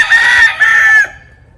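A breeding rooster crows once, loud and close, a sustained two-part call that fades quickly.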